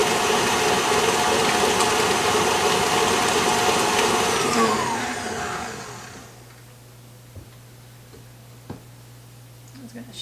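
Stand mixer whipping strawberry cake batter at a raised speed, a loud steady motor whir for about five seconds that then cuts off, leaving a faint hum and a few small clicks.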